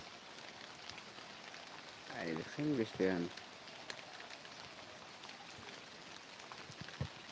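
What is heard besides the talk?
rain falling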